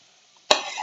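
Butterfly pea flower pitha drops into hot oil after a quiet moment, bursting into a loud, close sizzle that keeps crackling steadily to the end.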